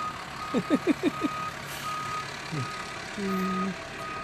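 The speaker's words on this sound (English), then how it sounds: "Fire truck." A fire truck backs up at a parade near a canal towpath, its reversing alarm giving a quick run of five evenly spaced beeps, then a lone beep and a longer tone, moderately loud over outdoor background noise.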